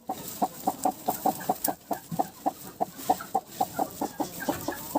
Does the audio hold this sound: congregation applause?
no